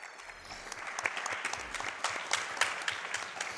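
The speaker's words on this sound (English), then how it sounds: "Round of applause." A live crowd at a Summer Games Done Quick speedrun marathon claps for a Crash Bandicoot N. Sane Trilogy run, sustained applause with sharp individual claps standing out, fairly close and without talk.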